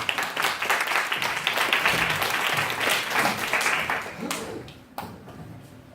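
A church youth group audience claps for a presidential candidate stepping forward, a dense burst of applause that fades out toward the end, with voices mixed into the clapping.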